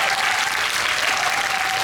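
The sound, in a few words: audience applause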